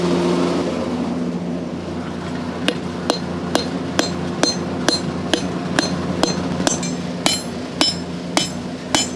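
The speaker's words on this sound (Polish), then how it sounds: "Duży młot, albo ten młotek?" Steady hammer blows ring out on Damascus steel being forged into a knife, starting after a few seconds and repeating at an even pace, each strike sharp and metallic over a low workshop hum.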